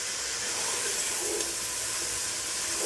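Mutton with ground whole spices and garlic frying in ghee for degi aloo gosht, giving a loud, steady, unbroken sizzle and hiss with no talking.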